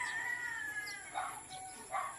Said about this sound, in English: I don't want to hear anything about the roosters and the noise